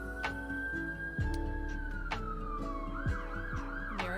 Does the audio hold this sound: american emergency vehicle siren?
yes